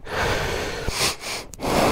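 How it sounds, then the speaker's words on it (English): A motorcycle rider on an English road trip breathes heavily, close to the microphone, with a few loud, ragged exhales and sniffs over faint background rumble, and no speech. "Heavy breathing."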